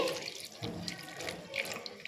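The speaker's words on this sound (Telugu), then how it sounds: "చూడండి వాటర్ వేస్తున్నానండి" Water splashes and trickles briefly into a pan for making sugar syrup, close and fairly quiet, with no talking.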